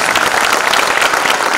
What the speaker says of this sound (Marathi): आपण एकदा जोरदार टाळ्या